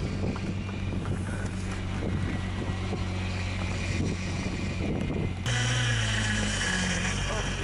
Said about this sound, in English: So here is the Basher driving up and down